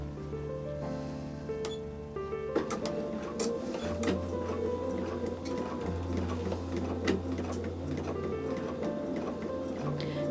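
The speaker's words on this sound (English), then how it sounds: "So as I'm sewing, I take it quite slowly and I'm keeping that centre point of the foot on the seam as I come down." A sewing machine stitches slowly along the seam of a fabric face mask, with a steady, close mechanical whir and needle tapping that runs throughout and picks up after a short start.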